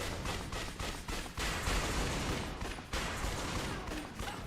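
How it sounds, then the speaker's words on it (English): Rapid pistol fire at barricades in the Dead Souls game, a dense fusillade of loud shots rattling almost continuously for several seconds. "And then start shooting the barricades."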